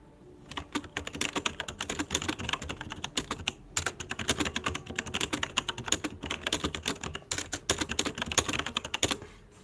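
Rapid, close typing on a loud computer keyboard, with dense bursts of sharp key clicks and brief pauses between runs, no talking.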